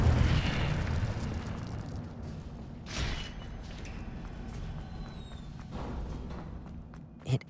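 Incendio fire spell cast in Hogwarts Legacy within the library's Restricted Section: a loud fiery blast opens, then a steady low roaring rumble carries on, punctuated by several sharper crackling bursts, the last one sudden and close near the end.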